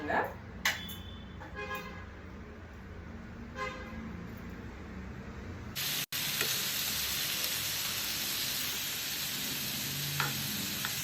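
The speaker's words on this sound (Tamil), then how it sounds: "ஒன் டேபிள் ஸ்பூன் ஆயில் ஊற்றிட்டு இந்த சிக்கனில் நம்ம கொஞ்சம் ரோஸ்ட் பண்ணி எடுத்துக்க போகிறோம்" Tandoori chicken pieces roast in a tablespoon of oil in a pan with a steady, bright hiss of sizzling that sets in loudly and continues, while a person talks over the cooking.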